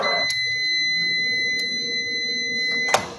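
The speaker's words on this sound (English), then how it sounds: "That was the quinoa timer, so I'm gonna move it off the hot burner." A kitchen timer set for quinoa steaming on the stove gives off a steady, high electronic beeping tone for several seconds, broken by a few sharp clicks, with no one speaking.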